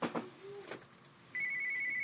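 A telephone starts ringing partway through as a steady electronic tone, fairly loud and close in a quiet room, after a few soft knocks and clicks.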